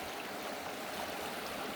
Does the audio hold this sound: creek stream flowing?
yes